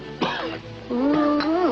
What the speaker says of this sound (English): That cough of yours stays with you like poor relation.